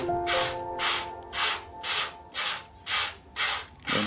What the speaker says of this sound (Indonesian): Nah, kita saksikan penyemprotannya.